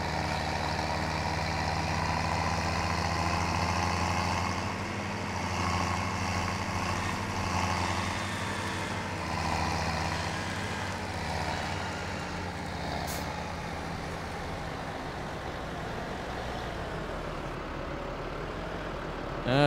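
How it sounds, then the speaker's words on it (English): Engine of a small tractor pulling a grain cart on a Michigan farm in Farming Simulator 17, a steady droning rumble that holds level throughout with no talking. "this tractor seems a little small on this grain cart"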